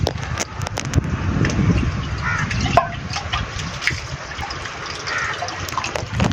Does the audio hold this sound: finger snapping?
no